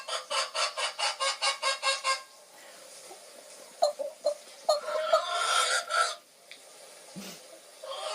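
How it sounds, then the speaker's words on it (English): Farm chickens cluck and squawk in a series of quick rhythmic calls, followed by scattered louder clucks and a brief squawk, close and clear with no talk. "These are, look at that, chickens."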